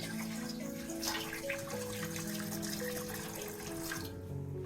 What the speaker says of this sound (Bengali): এখন আমি মুগের ডালগুলো সিদ্ধ দিব জল দিয়ে দিচ্ছি